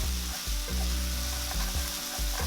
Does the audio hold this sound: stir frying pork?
yes